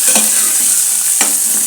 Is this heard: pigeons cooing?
no